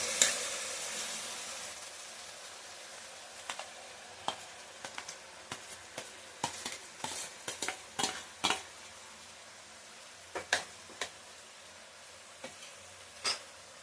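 Tomatoes frying in oil with capsicum in a pan, a soft steady sizzle under repeated scraping stirs of a spoon against the pan, coming in irregular clusters.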